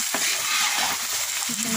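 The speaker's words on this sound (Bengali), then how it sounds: "এই যে পুরোটা সবজি ঢেলে দিলাম।" A large batch of vegetables frying in a big pot on a clay oven, a dense close sizzle with a few scraping stirs, no talking.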